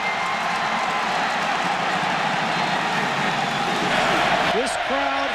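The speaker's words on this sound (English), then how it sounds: "This crowd is electric." A stadium crowd roars steadily after a college football touchdown, Oklahoma at Texas A&M, a broad sustained wash of cheering that swells slightly near the end, with a commentator talking briefly over it.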